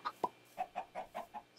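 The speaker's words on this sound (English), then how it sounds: "Stop laying eggs, you dang chickens." Chickens clucking in a video game, a rapid series of seven or eight short, close clucks in an uneven rhythm, clear and alone with no voices over them.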